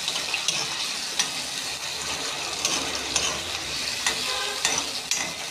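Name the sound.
sautéing bottle gourd with sardines in a pan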